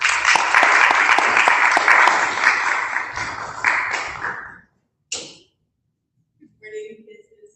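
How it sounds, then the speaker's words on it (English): An audience at a business networking session gives a speaker a loud round of applause, a dense burst of clapping that tapers off and cuts out, followed by a few faint stray sounds. "please give a round of applause for Dr."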